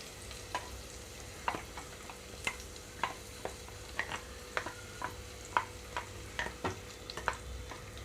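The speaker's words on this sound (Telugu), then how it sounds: "కరివేపాకు పచ్చిమిరపకాయలు వేసేస్తున్నాను ఇప్పుడు ఇందులోనే పచ్చి కొబ్బరి తురుము కూడా వేసేసుకుంటున్నాను" Curry leaves, green chillies and grated coconut frying in a pan for coconut rice. A soft, quiet sizzle is broken by regular light scrapes and taps of stirring, about one every half second.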